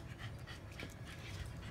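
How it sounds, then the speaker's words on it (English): Dogs pant softly in quick, breathy rhythm, close by and fairly quiet, with faint whimpering hints and no talking. "these are great dogs."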